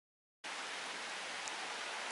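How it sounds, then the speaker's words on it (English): Steady rain begins falling outdoors, a soft, even hiss that cuts in abruptly and continues without change, fairly faint, with no voices. "it started to rain as you can see"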